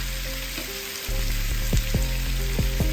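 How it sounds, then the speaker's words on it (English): Bacon and sausage sizzle steadily on a Blackstone griddle, a close, loud frying hiss with a few clinks and scrapes of a utensil, no voices. "I think Lily smells that bacon and sausage cooking."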